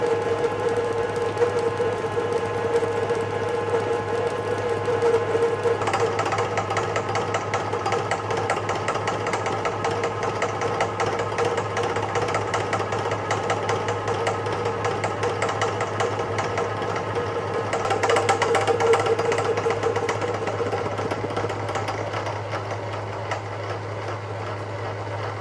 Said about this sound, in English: I've got this 3-inch face mill, and I'll touch off here